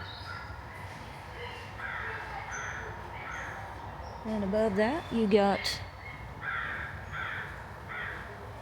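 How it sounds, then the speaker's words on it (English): Crows caw outdoors at the Ozark Highlands nature center, a quick cluster of harsh calls rising midway through, heard over steady outdoor ambience while a person talks. "bird action going on up ahead."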